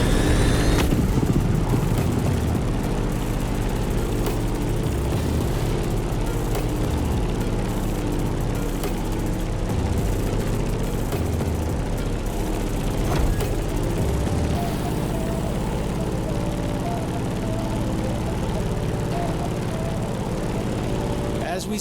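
A Grumman F8F Bearcat piston engine drones steadily in The Crew Motorfest racing game, a continuous loud propeller roar with wind rush that holds throughout, while a voice talks over it.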